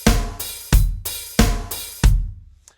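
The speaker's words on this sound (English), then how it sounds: "we've got some open and close hi-hat going." Drum kit hi-hat opening and closing in a steady pattern, four loud close hits each ringing briefly before being choked, with a faint tap at the end.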